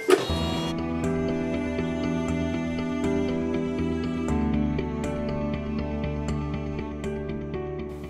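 An embroidery machine sews a placement stitch with contrasting thread, a continuous mechanical whirr with rapid regular needle ticks and a faint click at the start, close and steady.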